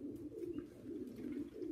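A racing pigeon hen gives a steady, low rhythmic coo, repeated in soft pulses close by, with faint background noise and no speech.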